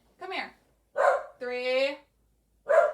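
Several sharp, close dog barks in quick succession, one drawn out into a higher yelp, with brief silences between.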